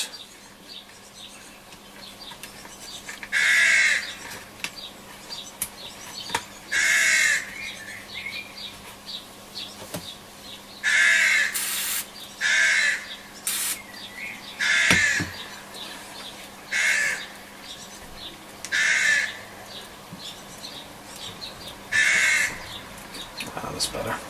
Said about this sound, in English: Sounds like my rooks are back.